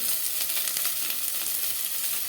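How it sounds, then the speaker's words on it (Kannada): Garlic and curry leaves frying in oil make a dense, even sizzle with fine crackling pops, close and steady throughout. "ಸ್ವಲ್ಪ ಬೆಳ್ಳುಳ್ಳಿ ಚೆನ್ನಾಗಿ ಫ್ರೈ ಮಾಡ್ಕೋಬೇಕು ಕರಿಬೇವು ಎಲ್ಲ ಹಾಕ್ಬಿಟ್ಟು"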